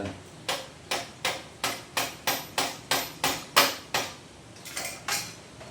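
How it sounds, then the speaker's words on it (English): About a dozen sharp metallic taps from a hammer shaft seating a washer on a Kawasaki motorcycle swingarm, in a steady rhythm, a brief pause, then a few quicker taps. Close and clear, no voices. "we'll use this hammer shaft, this bloody won't damage anything"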